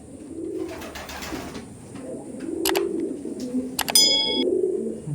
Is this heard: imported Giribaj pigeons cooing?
yes